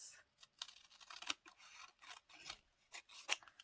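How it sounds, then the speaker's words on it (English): Scissors trim the edge of tea-dyed paper in quick, soft snips and rasping slides, close but faint, with no voice over them. "going to trim the edge of this."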